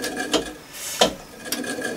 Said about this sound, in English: It's something we turn the chuck by hand and take the reamer through